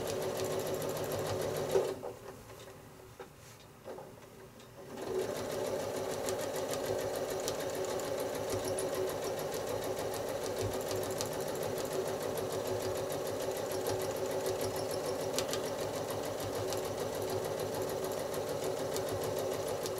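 Sewing machine free-motion quilting wiggly U-shapes across a nine-patch block, a steady close mechanical whir that pauses briefly near the start, then runs continuously.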